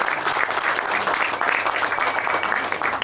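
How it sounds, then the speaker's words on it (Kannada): Sustained, dense applause from an audience at a short film award ceremony, steady and loud throughout with no talking over it. "ನಿಮ್ಗೆಲ್ರಿಗೂ ಮತ್ತೊಮ್ಮೆ ಜೋರಾದ ಚಪ್ಪಾಳೆ"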